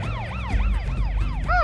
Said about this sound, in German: Vielleicht solltest du deine Sirene ausstellen